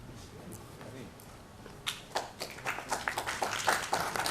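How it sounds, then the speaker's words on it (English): Clapping starts sparsely and quickly builds into brisk applause from a small crowd, growing louder toward the end. "Please welcome her with a huge round of applause"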